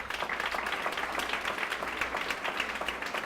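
An audience applauds at a women's excellence awards ceremony, a steady, dense clapping that carries evenly from start to finish without pause.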